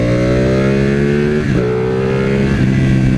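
A 2016 Ducati 959 Panigale superbike engine blipping hard on and off the throttle, loud and close, its steady drone dipping as the throttle shuts near the middle and then rising again, with no voices.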